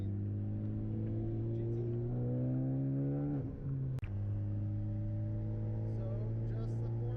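Car engines drone steadily inside a moving group of cars on a cruise with a Supra, Mustang and Bullitt, rising in pitch as one accelerates, then a brief dip and a sharp click before the steady hum resumes; a person talks briefly.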